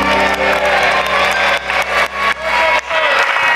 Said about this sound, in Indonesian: tepuk tangan dong buat ibu-ibu, luar biasa